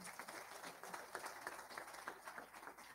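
An audience claps for a guest at an event, a soft, scattered patter of hands from a moderately sized crowd, fairly distant and continuous throughout.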